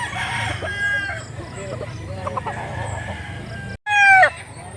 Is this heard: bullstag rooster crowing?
yes